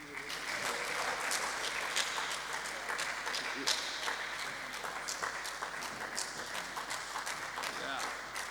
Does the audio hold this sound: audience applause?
yes